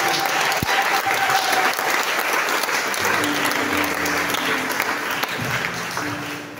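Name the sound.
church congregation applauding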